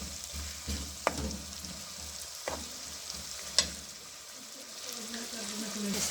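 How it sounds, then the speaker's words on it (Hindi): Tomatoes fry in a pan with a steady, close hiss and sizzle, broken by a few sharp clicks of a utensil against the pan. "टमाटर को अच्छी तरह भून लेंगे"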